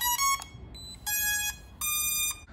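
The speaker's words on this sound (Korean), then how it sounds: "삐 소리가 나면서 이제 페어링이 된 상태입니다" Three clear electronic beeps from a drone pairing with its controller ring out in a quick, evenly spaced sequence, bright and close, with short pauses between them.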